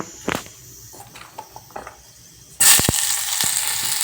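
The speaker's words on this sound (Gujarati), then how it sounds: "હવે આમાં ગાજર નાખી દઈએ આપણે" Carrots dropped into hot oil with mustard seeds set off a sudden loud burst of sizzling that keeps going, after a quieter stretch of a few scattered clicks and taps.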